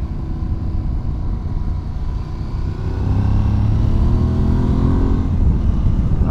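An Aprilia Tuareg 660 motorcycle being ridden: a loud, steady engine drone mixed with wind rush, with the revs climbing and the engine note strengthening about halfway through. No one speaks.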